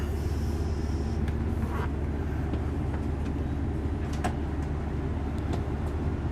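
The passenger-side slide-out of a 2023 Newmar London Aire 455 motorhome runs out with a steady, low mechanical drone from its motor that holds at an even level throughout, with faint clicks and no speech.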